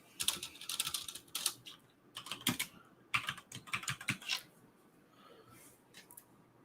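Close typing on a computer keyboard in quick irregular bursts of clicks separated by short pauses, with no talk over it.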